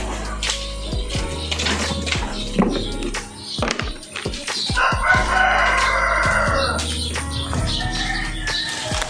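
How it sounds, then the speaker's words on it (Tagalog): Chickens and a rooster at a family home in the morning, with a rooster crowing over steady clucking and occasional wing flaps, fairly close and loud, a few sharp knocks in between. "Ayun yung manok ko."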